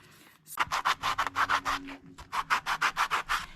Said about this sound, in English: Okay, so I'm just going to sand them.